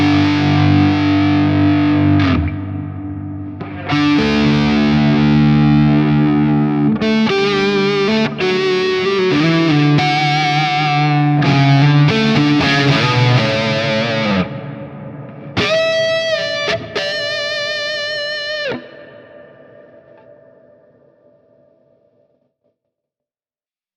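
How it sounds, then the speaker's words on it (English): An electric guitar through the Amped Volcano high-gain amp plugin plays distorted chords and notes drenched in echo and long reverb, the final notes ringing out and decaying slowly into silence. "you get sort of this spa echo where you can play something and you will have this long reverb sustain"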